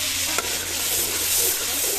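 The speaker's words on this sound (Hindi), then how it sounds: "प्याज ब्राउन हो गए और टमाटर डाल दिया गया है।" Browned onions and freshly added tomatoes sizzle steadily while frying in a village home kitchen, with a dense, even hiss throughout and one brief stirring clink near the start.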